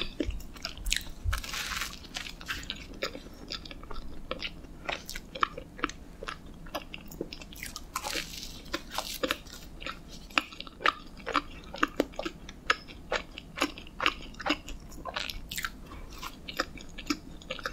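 Salt cream bread being eaten up close: repeated crunchy bites and moist chewing in an irregular rhythm, alone with no talking.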